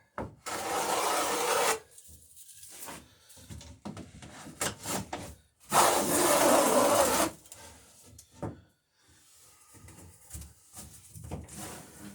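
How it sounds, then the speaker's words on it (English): Hand-tool rasping along the top edge of a wooden dory seat (thwart) being beveled, heard as two loud bursts of strokes separated by quieter scraping and handling sounds, close up. "Now I'll bevel the top edge of the seat."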